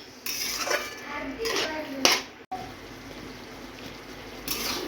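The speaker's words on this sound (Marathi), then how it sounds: "चवीनुसार मीठ घालून घ्यायचं मिक्स करायचं आणि याला झाकण ठेवून पाच मिनटं शिजवून घ्यायचं" Vegetables are mixed with salt in a pot before a lid goes on, heard as close clinks and scrapes of a utensil against metal in a few bursts, one sharper clatter, then a quieter stretch over a low background hiss.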